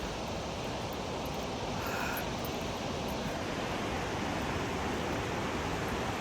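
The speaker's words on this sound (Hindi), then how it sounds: "बहुत प्यारी झरने की आवाज़ आ रही है" Steady, dense rushing water of a Himalayan waterfall roars continuously at an even level, broad and noisy and nearby, with no voices.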